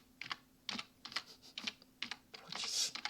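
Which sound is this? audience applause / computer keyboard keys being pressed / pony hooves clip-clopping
computer keyboard keys being pressed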